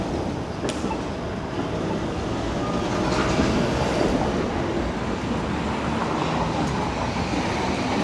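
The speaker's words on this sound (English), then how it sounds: "I think that streetcar will be heading to the Neville Park Loop." Toronto streetcar on Queen Street East near the Beaches, rolling past loudly with a steady rumble and clattering wheels that swell and hold, heard from the street with no talking.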